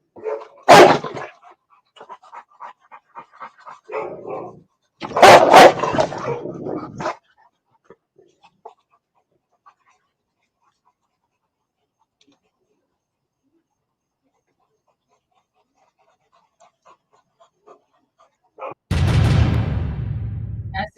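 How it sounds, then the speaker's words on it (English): Dogs roaming a neighborhood at night bark in short bursts, with a long quiet gap and then a rougher burst of panting or noise near the end, heard in news footage. "Video captured them barking at a neighbor's door shortly before they ran across the street toward the house"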